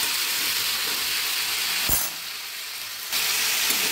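Vegetables being sautéed and stirred in a hot pan, a steady hissing sizzle that briefly drops quieter for about a second before returning at full strength, with no voices.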